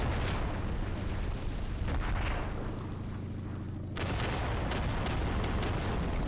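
Bombs dropped from a plane in the flight game LFS Planes explode in loud, continuous rumbling booms, a broad roar that dips briefly before another heavy blast cuts in near the end, with no talking.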